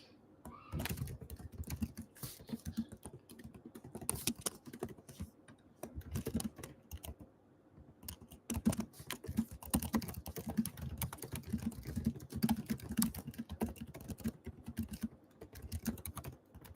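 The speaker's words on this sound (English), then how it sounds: "Hopefully my typing is not obnoxious. I'm just sending out some messages as we wait for people to come in." Messages being typed on a computer keyboard, with quick, irregular key clacks and occasional heavier strokes running continuously at a soft, close level, no voices over them.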